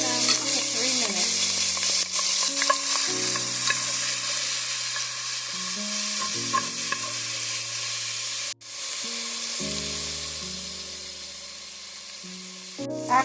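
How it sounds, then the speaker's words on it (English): Chopped onions sauté in a pot with a steady, bright sizzle and hiss, heard under a louder background track of music throughout. "add in our onions to the same pot. And you want to saute them for 3 minutes"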